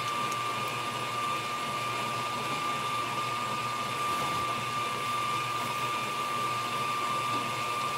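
A stand mixer whipping Italian meringue buttercream gives a steady, moderately quiet motor whir with a constant high tonal hum, unchanging and alone throughout.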